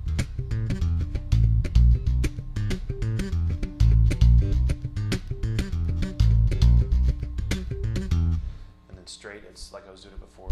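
A bass guitar riff is played with a swung feel, with punchy plucked low notes and bright percussive slaps in a steady groove that stops near the end, followed by a brief quieter tail.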